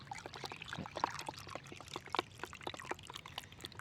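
Acid liquid is poured into a cup of fresh rubber tree latex, a soft, steady trickle and splash close by, faint and continuous with small dribbling bursts.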